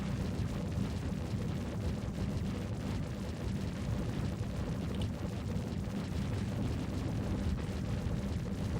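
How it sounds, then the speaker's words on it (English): Heavy barrage of ship weapons firing from a Corsair spaceship in Star Citizen, a dense continuous rumble of overlapping blasts and booms, loud and steady throughout with no pauses. "Now it looks like all the weapons are working. It's quite a barrage of weapons."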